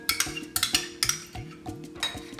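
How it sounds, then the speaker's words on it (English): Paneer, onions and peppers being stirred into yogurt in a bowl with a metal spoon, giving a steady series of sharp scraping clinks roughly every half second, close and clear with no talking. "we're just going to mix this together until it's evenly coating all of the paneer, the onions, and the peppers"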